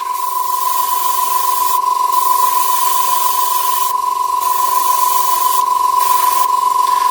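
A spray can lays a last light coat of paint onto a German WWII jerry can, a loud steady hiss running without pause over a constant high electronic whine.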